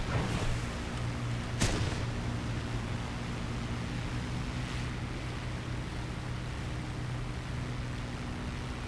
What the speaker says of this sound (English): Wait, was that just flak or was that plane?